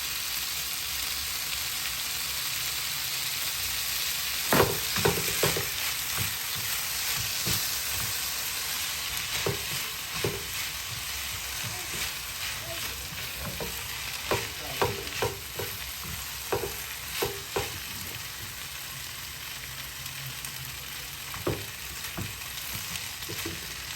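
Rice or spaghetti stir-frying in a pan with oyster sauce, soy sauce and chili pepper, a continuous hiss broken by repeated scraping and clanking stirs, close and steady.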